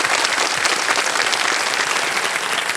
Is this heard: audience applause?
yes